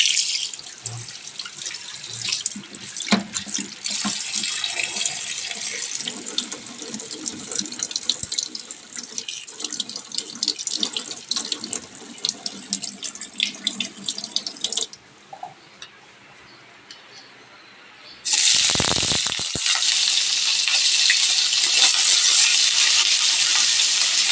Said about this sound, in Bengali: তো আগে আমি ভালো করে এগুলোকে ধুয়ে নিই সবজিগুলোকে